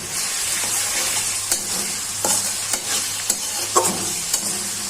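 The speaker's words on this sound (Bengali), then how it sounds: "পেঁয়াজটা ভাজা হয়ে যাবে।" Sliced onions fry in hot oil with cinnamon, bay leaf and cardamom pieces for a chicken curry, a continuous sizzle broken by repeated stirring scrapes and clicks of a spoon against the pan.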